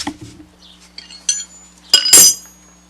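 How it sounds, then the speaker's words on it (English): Steel 19 mm and 24 mm wrenches clink against each other and metal during a lawn mower oil change, a few sharp bright metallic chinks with a louder burst of clattering near the end, close and in an otherwise quiet space. "Then you need a 19 millimeter and a 24 millimeter wrench."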